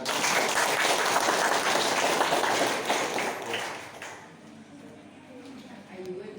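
A crowd at an Islamic boarding school gathering claps loudly for several seconds, then the applause thins out and fades to scattered claps and quiet murmurs.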